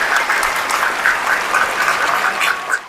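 Dense, steady applause from an audience at a Muslim business programme event, a continuous crowd of clapping hands filling the whole stretch at full volume with no voices over it.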